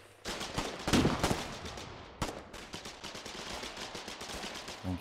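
Gunfire in the war game Foxhole, with rapid rifle and machine-gun bursts crackling on and off, some shots near and loud, others more distant, fairly quiet overall with no talk.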